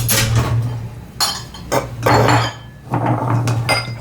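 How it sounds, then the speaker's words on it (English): A metal spoon scrapes and knocks against a bowl while mashing lumps out of chocolate cupcake batter, giving several close, clattering bursts over a steady low hum, with no talk. "I'll just take a spoon and mash them down through there, just like that."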